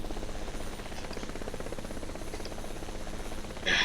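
A Bell helicopter in Microsoft Flight Simulator X produces a steady, droning rotor and turbine hum at constant loudness, ending with a short brighter burst.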